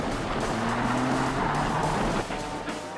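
Rally race car at a club rally round, its engine revving hard and close with a loud continuous roar and rising pitch, tyre noise underneath and a slight drop in intensity toward the end.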